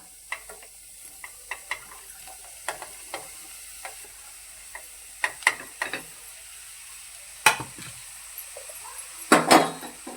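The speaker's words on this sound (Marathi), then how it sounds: "कढई तापलेली आहे, त्याच्यामध्ये मी टाकते कांदा." Chopped onion drops into a heated kadai and gives quiet, scattered crackles and ticks that grow a little busier toward the end, with no voices.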